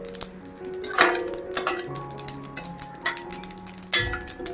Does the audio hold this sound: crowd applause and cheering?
no